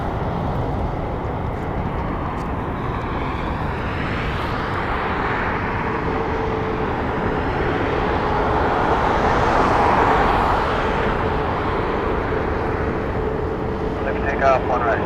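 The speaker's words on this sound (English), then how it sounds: "capture this Southwest Airlines flight on short and final." A Southwest Airlines jet on short final approach at Las Vegas Harry Reid International Airport gives a loud, steady engine roar that swells slightly partway through and holds for the whole stretch.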